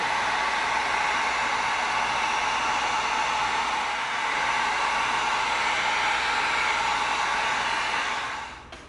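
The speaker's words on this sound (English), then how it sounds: "now we're going to come in with our heat gun and we're going to seal this to tighten it up" A heat gun blows steadily as it seals and tightens shaped EVA foam for a prop knife. The airy, hissing roar is close and constant and cuts off near the end, with no voices.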